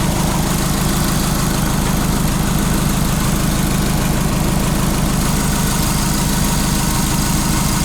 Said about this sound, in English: the old Beetle with a Subaru engine.